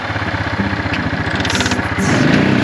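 A neglected Yamaha ATV engine runs on full choke, a loud, close, rough mid-pitched idle with uneven chugging that rises as it is given gas.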